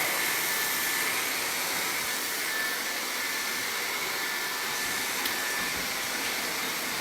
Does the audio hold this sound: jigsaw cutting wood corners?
no